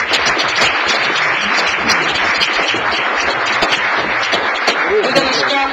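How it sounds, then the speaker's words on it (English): A council meeting audience in South Bend gives loud, steady applause, with dense clapping throughout and a few voices mixed in near the end. "let's give them a round of applause,"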